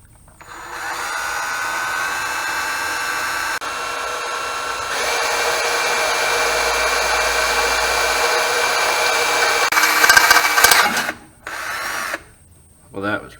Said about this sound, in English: I get to use my new tool, a right-angled drill